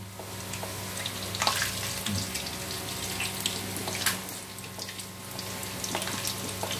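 Whole spices such as cardamom and mace fry in hot oil, giving a steady close hiss broken by a few scattered pops and crackles, fairly quiet, with no voices.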